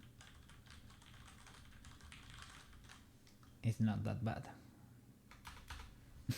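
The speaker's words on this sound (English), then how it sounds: "now if you type like a normal person" Someone types on a mechanical keyboard with brown switches, giving steady soft key clatter with a louder burst of clacks partway through. A person speaks briefly over it.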